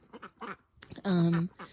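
A backyard duck gives one loud, nasal quack close by, following a few softer, brief calls or voice sounds; a person talks just around it.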